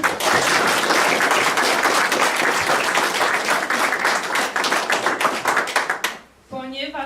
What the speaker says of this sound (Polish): Proszę o brawa dla Łukasza.